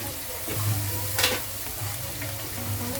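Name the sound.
masala frying in pan for brinjal curry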